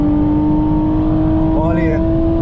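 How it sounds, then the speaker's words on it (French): A car accelerates with a steady, loud engine drone whose pitch climbs and shifts near the end, heard from inside the vehicle under continuous noise. "Il va accélérer."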